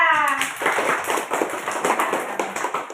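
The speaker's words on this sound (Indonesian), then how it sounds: "Tepuk tangan untuk Laila." A group in a classroom applauds, a dense burst of quick hand claps at close range that starts just after a short voice and continues steadily to the end.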